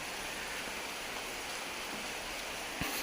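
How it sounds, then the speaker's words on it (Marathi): Steady rain hisses evenly outside, a soft continuous wash with one faint knock near the end. "बाहेर एकदम मस्तपैकीचा पाऊस पण पडतोय"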